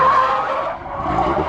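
A Renault R5 Turbo 2 skids with a loud, sustained tire squeal, close by and unbroken for the whole moment.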